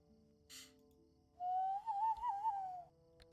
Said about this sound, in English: It is a really insipid whistle, though, isn't it?